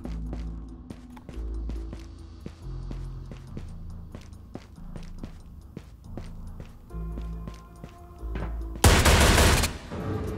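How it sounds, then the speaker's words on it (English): Shotgun blasts and rapid gunfire in the video game Ghosts of Tabor, a dense run of sharp, repeated shots with a louder burst near the end, heard alone without talking. "Can I blast Kurtek with a fucking shotgun?"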